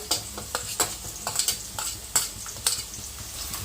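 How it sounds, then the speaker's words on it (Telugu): Sliced onions, tomatoes and green chillies fry in hot oil, a steady close sizzle broken by repeated sharp scrapes and clinks of a spoon stirring against the pan, with no voices. "సన్నగా తరిగిన ఉల్లిపాయలు అయితే వేసుకున్నాము. ఇవన్నీ మంచిగా వేగినాక టమాటాలు, పచ్చిమిరపకాయలు అయితే వేసుకున్నాము."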